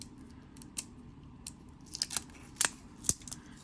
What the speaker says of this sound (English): we see yet another sticker that we can peel off here